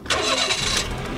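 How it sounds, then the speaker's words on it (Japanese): A used 2007 (Heisei 19) Japanese kei car with custom mirrors, showing about 94,000 km, cranks and fires up, then settles into a steady idle close to the listener with no talk. "エンジンも調子良さそう"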